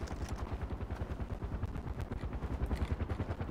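Rapid automatic gunfire from the Far Cry 4 video game, a steady fast burst of shots rolling on without pause, loud and close, with no talking over it.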